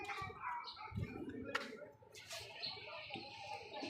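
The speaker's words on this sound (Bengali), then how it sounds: "এই যে এগুলো হচ্ছে আমার কবুতর, এই সবগুলো আমার কবুতর" Pet pigeons coo at a home, soft low throaty calls repeating through the clip amid faint background household noise, with a brief sharper bird call near the middle.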